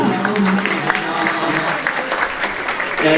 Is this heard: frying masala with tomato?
no